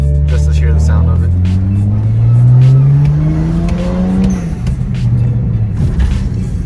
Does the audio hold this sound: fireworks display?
no